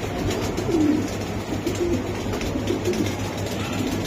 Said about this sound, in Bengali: এটা তো কবুতরটা দেখান